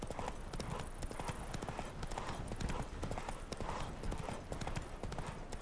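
Steady, rhythmic horse hooves clopping at a walking pace in The Witcher 3: Blood and Wine video game, moderately close, with a faint background ambience throughout.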